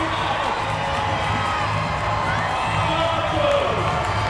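A sold-out crowd in a packed swimming arena at an ISL pool meet roars steadily, a dense wash of cheering and shouting that stays loud and continuous throughout.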